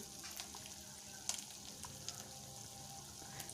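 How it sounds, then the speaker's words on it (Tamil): Spicy fish curry with drumstick simmers quietly in a pot, giving a faint, steady bubbling with a few soft pops and clicks and no talking. "இப்போ கொதிக்க ஆரம்பிச்சிருச்சு."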